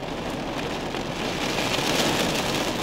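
Steady rain drums on the surface during a storm out at a bush camp around a yurt, a dense continuous hiss that swells slightly louder toward the end, with no distinct thunderclap standing out.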